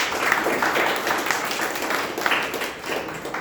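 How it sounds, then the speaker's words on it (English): Applause from a Toastmasters club meeting audience, a moderately loud round of clapping in a room that rises and falls in uneven waves with no voices over it. "Please give a big round of applause."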